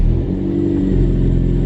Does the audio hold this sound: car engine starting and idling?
yes